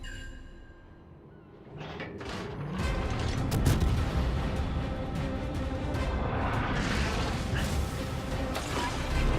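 Heavy naval gunfire and shell impacts from warships in World of Warships, a sustained loud rumbling barrage with crashing bursts, starting quieter and swelling into dense continuous battle noise with a Zao cruiser's guns firing.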